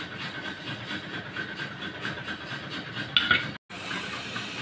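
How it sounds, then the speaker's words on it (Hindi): A pressure cooker holding beef paye hisses steadily and fairly quietly as pressure builds on the stove. A brief sharper burst comes near the end, just before a short cut. "ये देखें प्रेशर बन गया है, आपको आवाज़ आ रही होगी।"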